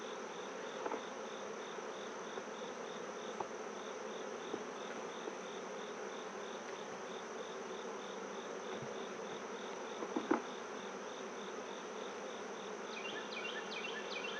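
Honeybees drone steadily in an open brood hive during an inspection, a dense continuous buzz that stays close and even throughout, with a few faint knocks and handling sounds.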